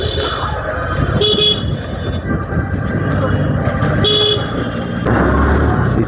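A car horn honks twice in busy road traffic, heard from a motorcycle. The honks are short and fairly close, and they sit over constant engine and road noise.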